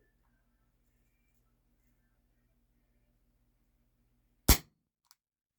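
A single sharp crack from an airsoft gun firing a 4.5mm ASG Blaster BB, loud and close in a quiet room, followed by a faint small tick.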